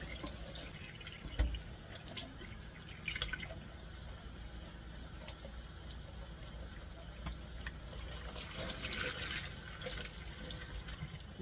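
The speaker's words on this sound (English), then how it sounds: "So we're going to go ahead and rinse the yarn." Running water from a tap splashes and drips steadily while dyed black yarn is rinsed in a sink, close and continuous, with irregular splashes over a constant flow.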